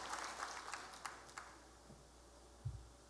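A small audience at a Manila regional sales training event gives thin, scattered claps, a few sharp hits standing out against a quiet room.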